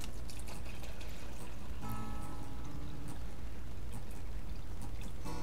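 Water pours into a pot to make four cups for boiling, part of preparing juniper berry mead; a steady, close splashing pour runs throughout, with faint clinks and no talking.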